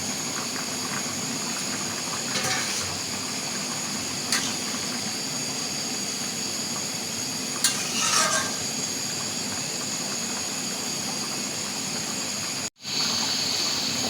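Green chillies fry in a pan for a thin hilsa fish curry with green banana, giving a steady close hiss with a few brief louder crackles, with no talk.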